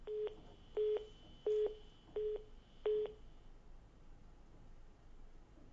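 Five evenly spaced electronic beeps of a dropped phone line on a radio call-in show, clear and steady, followed by a faint hiss and no voices.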